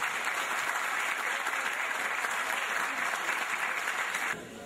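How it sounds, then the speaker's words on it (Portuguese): A crowd at a festival opening in a history and folklore museum gives a warm round of applause for the youth orchestra of Taubaté, steady and full, somewhat distant and softening at the very end. "Eu peço primeiramente a todos vocês uma salva de palmas bem calorosa à Orquestra Jovem da cidade de Taubaté."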